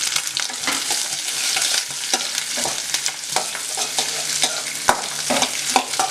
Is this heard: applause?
no